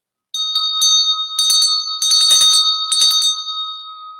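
A small bell, like those hung on a priest's garment, jingles in several bright shaken bursts over a sustained ringing tone, close and clear with no talk.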